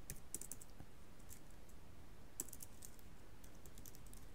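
Fingers tap out text on a computer keyboard, a quiet run of light clicks with scattered sharper keystrokes, including a few louder bursts, and no one speaking.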